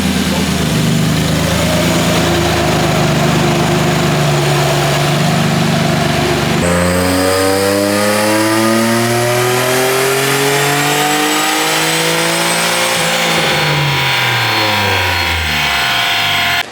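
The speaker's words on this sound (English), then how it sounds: "I made the first 2 dyno pulls with the new turbo" A Nissan 350Z fitted with a new turbo runs on a dyno, its engine droning loudly, then sweeping upward through the gears in a long rising rev before easing back down.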